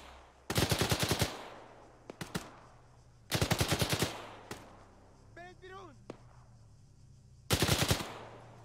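Automatic gunfire in the Arma 3 video game comes in three loud rapid bursts separated by pauses, with single shots scattered between them and a brief voice in the middle.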